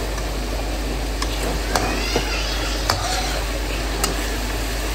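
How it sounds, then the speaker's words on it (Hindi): Chicken frying with dry spices and sausage in a pan for chowmein, a constant loud sizzle with occasional faint clicks of a utensil over a low hum. "चिकन जो है वो अच्छी काफ़ी फ्राई हो गई है"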